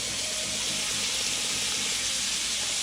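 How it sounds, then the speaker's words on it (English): Scallops dropped into a hot pan already holding garlic give a loud, steady broadband sizzle and hiss that runs unbroken throughout, close up, with no talking. "I'm just gonna throw the scallops in now"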